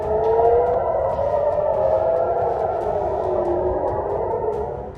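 A loud wailing air raid siren in Israel at night rises and falls steadily, droning on continuously with a slightly echoing, distant quality.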